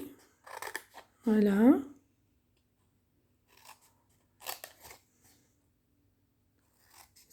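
Scissors cut paper for an Advent calendar box in a few short, crisp bursts of snipping separated by quiet pauses, with a voice briefly heard.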